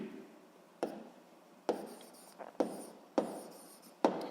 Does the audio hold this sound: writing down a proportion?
yes